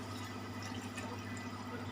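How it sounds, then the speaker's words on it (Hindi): Water poured steadily into a cooking pot of potatoes, a continuous close splashing stream with a low hum underneath, no voices. "अब मैं इसके अंदर पानी शामिल करूँगी ताकि हमारे आलू हैं वो गल जाएं"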